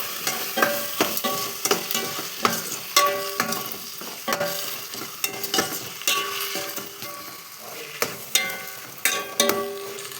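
Chopped vegetables with rock salt and turmeric sauté in a pan, a steady sizzle broken by repeated scraping, clattering strokes of a stirring spoon, close and fairly quiet.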